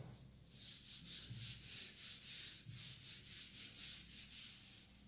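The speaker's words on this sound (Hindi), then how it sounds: "ठीक है मैं रब कर रहा हूँ इसको" Writing is rubbed off a board with steady back-and-forth strokes, about a dozen even, rhythmic swipes across five seconds, fairly close with no talking.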